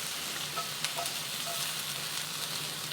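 Onions frying in a pan for egg foo young, a steady moderate sizzle with soft crackles and a few stirring scrapes.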